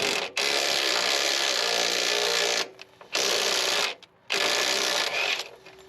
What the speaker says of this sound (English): All right, ratchet and a breaker bar. Got them broken free. Let's see if they'll come out now.